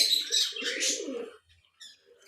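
White Dutch budgerigars chirp close by in a short burst of bright, scratchy chattering that fades into a pause before a few fainter chirps return.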